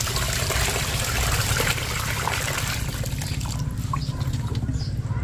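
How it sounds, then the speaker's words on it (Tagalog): Water trickles and pours steadily into a container of homemade organic liquid fertilizer mixed with water spinach juice, a close continuous splashing stream that thins toward the end. "Dadagdagan pa natin ng tubig."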